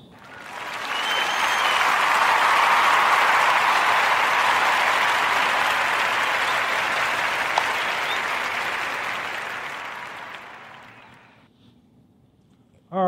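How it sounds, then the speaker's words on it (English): A recorded round of applause for a podcast segment swells to a dense, steady clapping crowd, holds for about ten seconds, then fades out before a short sound at the end. "So let's join me in the giving, you know, FUBU Studios a warm Narrative Podcast round of applause"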